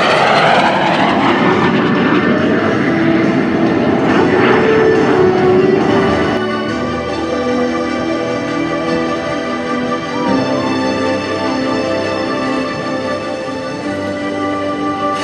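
A Soviet MiG-17 leads a T-33 Shooting Star past at an air show, a loud roaring jet pass that swells, sweeps downward in pitch, then fades into a lingering engine drone.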